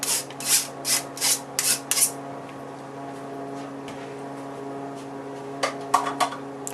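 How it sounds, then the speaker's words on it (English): Brown rice is spread across an aluminum tray in a run of six quick scraping, rustling strokes, then a quieter pause and a few more brief scrapes near the end, over a faint steady background hum. "We will spread the brown rice on aluminum tray."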